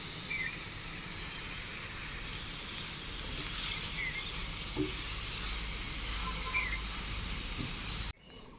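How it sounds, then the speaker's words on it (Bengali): Potatoes with poppy seeds sizzling steadily in a pan while being stirred for posto aloo bhaja, a continuous close hiss with occasional light scrapes, cutting off abruptly near the end. "ভালো করে নাড়াচাড়া করে ভেজে নেব"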